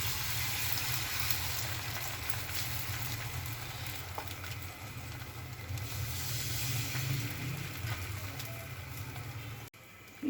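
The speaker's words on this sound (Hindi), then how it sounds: "अब हम इसमें ये डाल रहे हैं मिक्सर अंडों का।" Beaten egg mixture sizzling in oil on a hot tawa griddle, a steady hiss and crackle that stays loud and even for about ten seconds, with no one talking.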